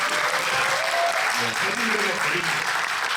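Audience applause at a special curtain-call stage event for the musical Dorian Gray, steady dense clapping filling the space for the whole stretch, with a few voices murmuring underneath.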